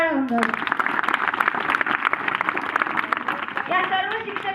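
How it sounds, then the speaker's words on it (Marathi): An audience at a school farewell ceremony claps for the teachers, dense steady applause with a few raised voices mixed in, lasting several seconds. "जोरदार टाळ्या होऊन जाऊ।"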